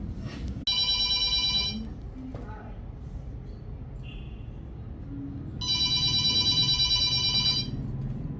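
An electronic telephone ringtone trills in two bursts with a pause between, fairly close and loud, with faint voices in the background.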